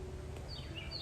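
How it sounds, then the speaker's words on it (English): Birds chirping in a woodland park, a few faint high calls near the end over quiet background ambience. "You can hear the birds in the background."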